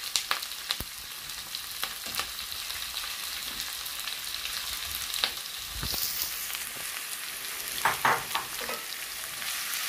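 Onions frying in a pan for Kerala-style masala dosa, with green chillies already added: a steady, soft sizzle broken by occasional scrapes and clinks from stirring, and no talking.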